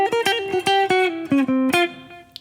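Guitar runs through a short hexatonic tritone scale that resolves to F, with about a dozen quick, clean picked notes in a steady rhythm that ring briefly, played close and alone.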